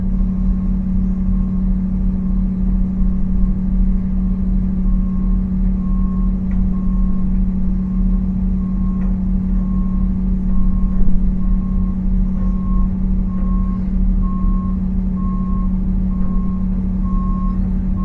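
A dump truck's reversing alarm beeps in a steady, evenly spaced series while it slowly backs up, heard over the constant low drone of heavy diesel engines idling nearby.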